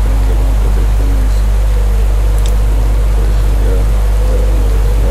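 Rain falling during a stage of the Arctic Race of Norway in the cycling game Pro Cycling Manager 2014, a steady loud hiss of downpour with heavy low rumble and brief talk over it.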